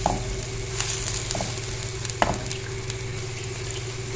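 Onion paste made from one large onion cooks in a pan over a medium flame as the base for a fish curry. It gives a continuous, moderately loud sizzle with a few soft pops and a faint steady hum underneath.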